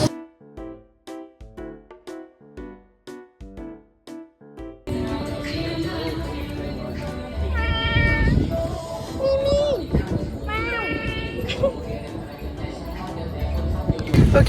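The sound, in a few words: kittens meowing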